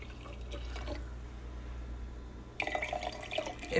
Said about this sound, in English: now it's time to add the vinegar.